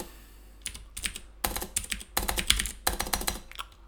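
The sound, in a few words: typing on a computer keyboard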